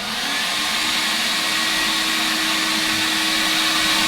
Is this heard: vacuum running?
yes